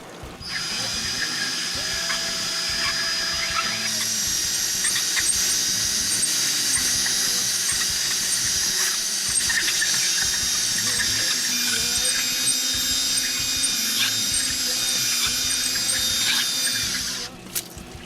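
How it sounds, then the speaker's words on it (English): A wheel cylinder hone spins steadily inside brake wheel cylinders, driven by a drill, making a continuous high whining grind with shifting squealy tones, close and loud for most of the stretch before stopping. "we're using a wheel cylinder hone to clean them up."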